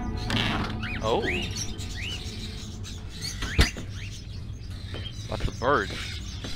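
Caged crows in the Fahrenheit (Indigo Prophecy) video game give short rising chirps and caws scattered over a low ambient drone, with a sharp thud midway and a brief burst of calls near the end.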